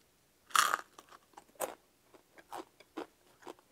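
Crunchy beef tripe tacos with onion, cilantro and spicy salsa bitten and chewed close up: one loud crisp crunch followed by a run of softer, rhythmic crunchy chews, with no talking.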